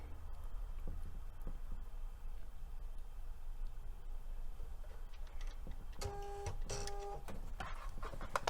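A sewing machine top stitches around a fold at a longer stitch length, its needle mechanism whirring in a quiet, steady mechanical rattle with brief tonal bursts near the end, close and alone.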